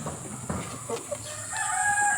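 Chickens cluck and murmur nearby, with a rising crow-like call toward the end over a steady background hiss.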